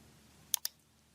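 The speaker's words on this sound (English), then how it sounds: "So let's click New Node in the toolbar." Two quick, crisp clicks sound close together at close range, a computer mouse clicked in structural modeling software, with quiet room tone around them.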